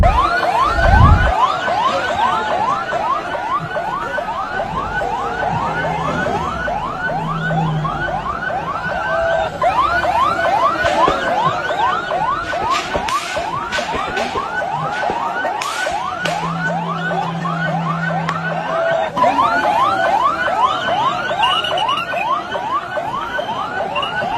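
Ambulance sirens wail continuously in a rapid, repeating rise-and-fall pattern, several sirens overlapping loudly amid a busy street scene.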